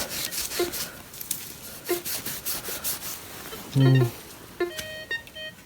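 Soft, intermittent scratching and rubbing of small metal, with brief faint clicks and a short tonal squeak, quiet and close.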